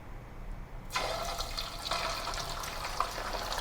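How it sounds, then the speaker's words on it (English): Beaten egg poured slowly into hot oil in a wok for a Thai omelet, a sudden loud sizzling hiss bursting in after a quiet moment and crackling steadily, with no talk. "Pour the egg liquid into the wok"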